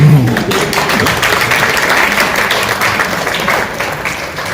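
A comedy show audience claps and applauds, a dense, loud, sustained wash of clapping that holds steady throughout.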